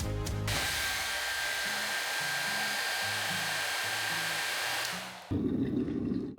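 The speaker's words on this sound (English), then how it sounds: "I'll use that very powerful looking hair dryer" A powerful hotel hair dryer blows with a steady, loud whooshing hum for several seconds, then cuts to a different rumbling noise at the end.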